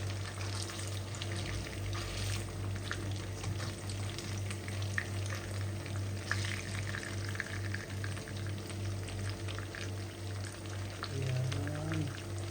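Breakfast food sizzles steadily in a pan and is flipped partway through, a continuous close frying hiss with small crackles and a brief scrape of turning near the end.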